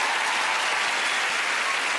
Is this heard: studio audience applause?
yes